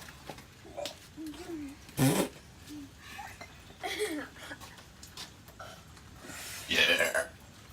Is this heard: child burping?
yes